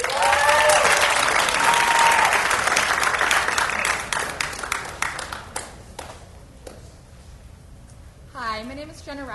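An audience applauds a student presenter at a high school research competition, dense clapping that thins into scattered claps before a voice begins speaking.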